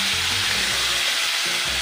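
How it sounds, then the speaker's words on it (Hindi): Minced mutton keema fries in a pan with a steady, close broadband sizzle that carries on without a break across the short stretch, with low rumbling underneath and no voices. "कीमे की अच्छी तरह से भुनाई कर लेंगे।"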